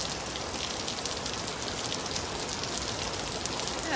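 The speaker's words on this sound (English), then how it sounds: "And here comes the rain." Steady rain falls across a yard after mowing, a dense continuous hiss with no distinct drops standing out and no voices.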